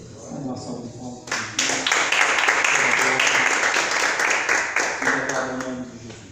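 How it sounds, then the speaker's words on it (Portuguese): Congregation applause at a church service erupts after a brief spoken lead-in, a dense sustained burst of many hands clapping for several seconds before tapering while a voice returns near the end. "Vamos dar uma salva de palmas."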